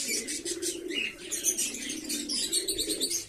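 Pigeons at a Sunday morning feeding flap their wings in repeated bursts and give soft coos and chirps, fairly close and moderately quiet throughout.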